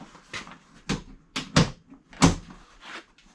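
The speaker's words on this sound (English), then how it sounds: "I'm going to shut the door" A series of broadband knocks and clunks, several hard impacts of a Can-Am X3 UTV's full metal door shutting, spaced irregularly over a few seconds, fairly close with no voices.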